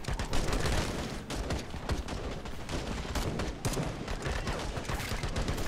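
Heavy, sustained gunfire rattles through a Call to Arms battle, dense overlapping shots and bursts crackling continuously at close range with no pauses.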